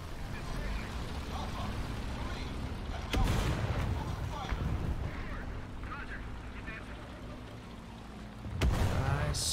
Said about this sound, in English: We'll drop some artillery on it.